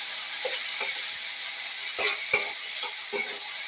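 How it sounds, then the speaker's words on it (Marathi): Tomatoes sautéing in a pan, with a steady loud sizzle broken by a few clinks and scrapes of a spoon stirring against the metal, and no talking. "त्याच्यामध्ये आपण टोमॅटो ॲड करूया"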